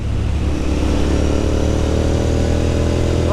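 Steady, loud engine drone from a Continental GT 650 Twin motorcycle on the move, with a low rumbling tone that climbs slightly toward the end as the rider speeds up along winding roads.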